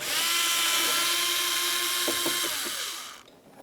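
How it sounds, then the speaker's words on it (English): A power driver backs out a T20 screw from behind a plastic cover on a 2000-2006 Chevrolet Tahoe, with a loud, close, high motor whine that holds steady, dips briefly, then winds down and stops. "you'll find that you have a T20 screw. Remove that."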